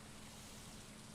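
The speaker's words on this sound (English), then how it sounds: "Also, it's raining, which I didn't check before" Rain falls in the farming game Stardew Valley as a soft, continuous hiss, very faint and steady throughout, with no voices.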